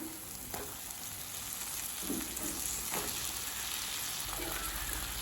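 Eggplant sautés in oil with chili powder: a steady, moderate sizzle with a few soft stirring scrapes and utensil knocks, fairly close, no talking.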